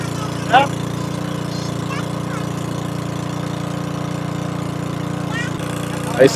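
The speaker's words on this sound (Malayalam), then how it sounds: "എഞ്ചിന്റെ സൗണ്ടാണ് ആകെയുള്ളൊരു പ്രശ്നം" A boat engine drones steadily and loudly throughout on the backwaters between Vypin and Kadamakudy, Ernakulam, a constant low rumble with a couple of brief voice fragments over it.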